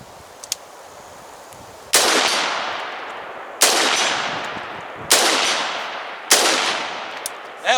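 Rifle shots from an Expo Arms budget-build upper, four sharp outdoor reports spaced about one to two seconds apart, each followed by a long decaying echo, with no talking.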